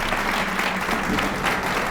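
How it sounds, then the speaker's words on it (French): A live TV studio audience applauds a veteran Burkina Faso DJ, the clapping steady and dense throughout with a faint crowd murmur mixed in. "Je vais demander beaucoup d'applaudissements"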